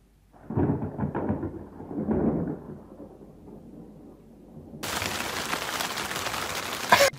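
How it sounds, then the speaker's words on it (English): A passing rain shower with thunder: two deep rumbling rolls come first, then a steady, loud hiss of rain that sets in abruptly and keeps going to the end. "Just got hit with a little rain shower"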